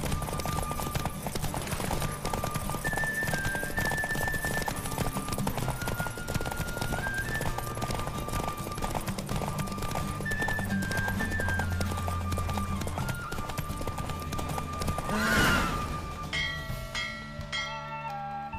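Hooves clip-clop in a fast, steady galloping rhythm over a continuous rumble, with a brief whinny-like burst near the end; a horse race in the video game The Witcher 3.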